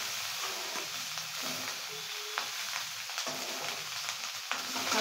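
Soaked biryani rice stir-frying in oil with salt in a pan, a steady close sizzle with soft scraping stirs, no talk.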